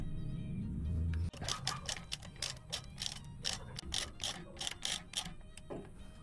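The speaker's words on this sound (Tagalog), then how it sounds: "gagamit tayo ng 14mm na socket wrench" A 14mm socket wrench ratchets while a motorcycle front shock is fitted, giving rapid rhythmic clicking strokes in steady bursts, close and clear after a brief low hum at the start.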